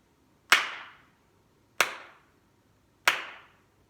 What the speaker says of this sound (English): There was 3 claps.